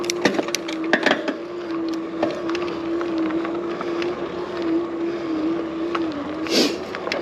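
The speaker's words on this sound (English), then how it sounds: "I can hear the motor beginning to kick in a little bit." An Aventon Aventure e-bike's motor whines at a steady pitch while climbing a hill, its faint hum running under wind noise and occasional knocks and rattles from the ride.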